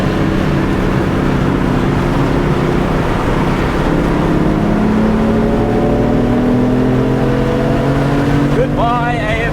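A stock BMW F80 M3 accelerates hard in a race, with a loud, close engine note climbing steadily in pitch as it pulls, then a sharp upshift near the end.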